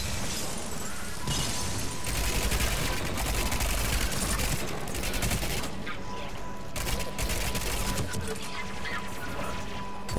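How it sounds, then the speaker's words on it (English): A grenade blast and bursts of gunfire fill a Mass Effect 3 firefight, sustained rapid shots and crashes loud and dense throughout with brief gaps. "When in doubt, grenade."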